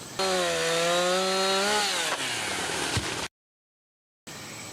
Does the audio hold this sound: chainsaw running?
yes